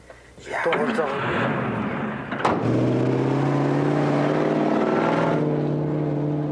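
A Russian Jeep engine starts and settles into a steady, loud running drone out in the Gobi desert, with a sharp click partway through before the sustained hum.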